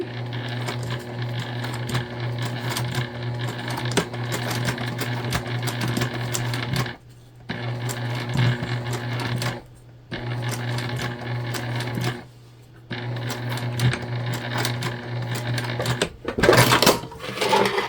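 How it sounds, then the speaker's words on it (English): A sewing machine top stitches a zipper tab on a fabric bag in rapid whirring bursts, pausing briefly between runs, with a sharper clatter near the end. "And then we're just going to turn it and we're going to top stitch."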